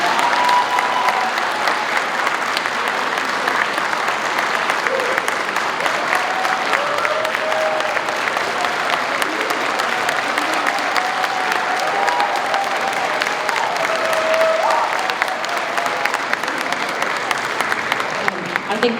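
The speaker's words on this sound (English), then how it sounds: "Please give them another round of applause" Loud, sustained applause from a large audience at an assemblymember's inauguration ceremony, a thick unbroken wash of clapping that holds steady for the whole stretch, with crowd murmur mixed in.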